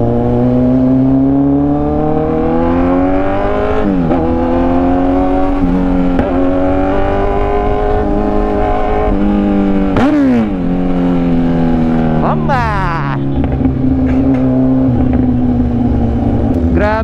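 Kawasaki Z1000R with a full-system exhaust droning loudly while riding, its engine note rising and falling through several gear changes and throttle blips, close and continuous.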